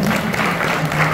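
An audience at a devotional kirtan gathering applauds in a dense, steady wash of clapping, close and sustained with a faint hum underneath.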